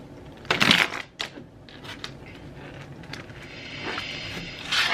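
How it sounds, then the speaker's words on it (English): Bent tarot cards being shuffled by hand at close range, giving a few sharp riffling bursts followed by softer, steady papery rustling and fumbling. "these cards are so bent, they don't shuffle that well"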